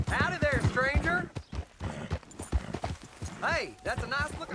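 Hoofbeats from a horse in Red Dead Redemption 2 clatter in a quick, close rhythm, with a brief whinny, heard under people speaking.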